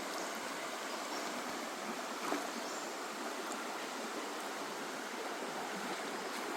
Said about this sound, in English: Beautiful nice stream.